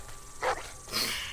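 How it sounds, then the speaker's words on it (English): A dog barks twice in The Walking Dead: The Final Season video game, two short, fairly loud barks about half a second apart over a low background hum. "That's a dog."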